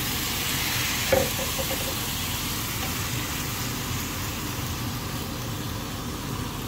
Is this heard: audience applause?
no